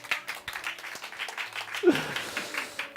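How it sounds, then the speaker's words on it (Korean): A church congregation claps for a member's 60th birthday during a Sunday service, a light, scattered round of applause that stays moderate in volume, with a few voices mixed in. "박수 한번 해주십시오."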